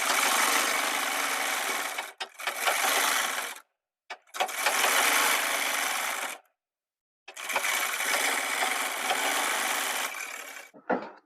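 A sewing machine stitches a shirt collar in loud, close, steady mechanical runs of a few seconds each, separated by brief silences as the fabric is repositioned.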